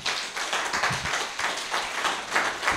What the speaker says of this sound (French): Applaudissons Jéhovah, notre Dieu.